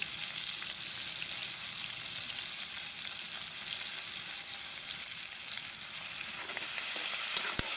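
Chopped garlic fries in a pan of hot oil alongside onions and green chillies, giving a loud, continuous bright sizzle that holds steady throughout, with a few faint stirring scrapes near the end.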